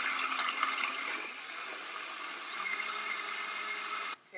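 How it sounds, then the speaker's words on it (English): Freelee Optimum blender running at full power blending pasta, a steady loud whirring motor with a pitch shift midway, ending abruptly as it stops. "Let's blend her up. Blend her up in the Freelee. This is Optimum Blender from Freelee."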